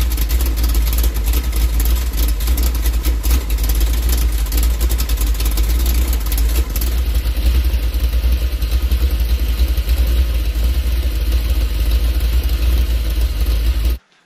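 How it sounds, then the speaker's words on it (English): A muscle car engine fitted with Rhoads lifters idles on a dyno, giving a loud, steady, close-up rumble with a slightly clattery, even rhythm that runs unbroken for about fourteen seconds before cutting off abruptly. "They change the sound of the idle."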